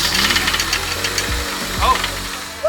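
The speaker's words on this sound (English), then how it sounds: "we're going to see if the K20 starts" The K20 engine of a Honda Integra Type R, started from cold, gives a loud, close, rattling and knocking mechanical clatter with low thumps, and a voice is heard over it.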